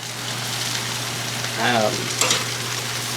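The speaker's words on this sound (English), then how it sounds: "just give them a good sear, a couple minutes on each side" Venison pieces searing in a hot pan beside potatoes, a loud continuous close sizzle with brief stirring or shifting noises partway through.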